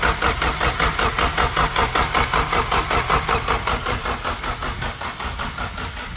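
A Toyota Corolla engine runs steadily at idle with a loud, even mechanical throb and a faint pulsing rhythm, close by with no voices over it.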